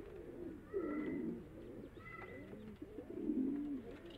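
A male pigeon coos in low, rolling phrases while building a nest, repeated several times close by against a quiet background with faint higher chirps and no talk.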